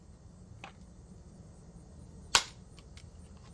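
A VKS less-lethal CO2 launcher fires a single sharp, loud shot, preceded by a faint click and followed by a few small mechanical clicks over a low steady background hiss.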